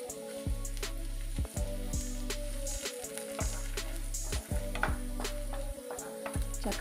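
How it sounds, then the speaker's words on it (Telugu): Nalleru (Cissus quadrangularis) stems fry in a pan for chutney, a steady close sizzle broken by regular stirring scrapes, with no talking. "ఇదంతా చక్కగా వేయించుకోవాలి"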